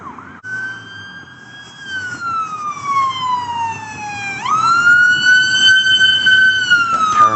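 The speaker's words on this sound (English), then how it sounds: "So it drives up to me, blaring the siren, turns it off right when it gets to me." A paramedic vehicle approaches with its siren blaring loud and close, the wail sweeping down in pitch and then jumping back up as it draws nearer over road noise.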